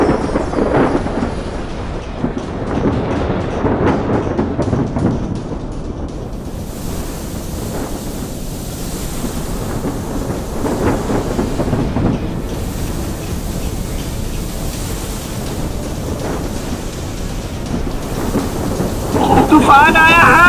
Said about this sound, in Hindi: तभी बीच समुद्र में अचानक भयानक तूफान आ जाता है।